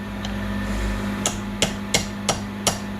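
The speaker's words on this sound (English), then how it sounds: "Ooh, grab my hammer." On a 36-year-old Honda TRX350D, a hammer strikes a seized brake part five times in a steady rhythm, sharp metallic close-up blows over a low hum.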